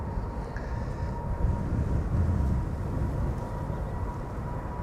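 A KLM Boeing 777-300 jet, about 13 years old, departs Amsterdam Schiphol in gusty crosswinds, producing a steady, broad roar that holds at an even level with no voices.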